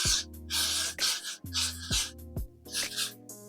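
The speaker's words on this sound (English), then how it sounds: "I'm going to spray on it just to set the makeup in." Short bursts of setting spray hiss onto freshly applied makeup over a bald cap, several quick pumps in an irregular rhythm, close and fairly loud, with no talking.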